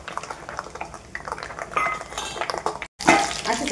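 Peanuts fry in oil in a pan with bubbling sizzle and frequent scraping, clinking stirs of a utensil against the metal, close by with no speech.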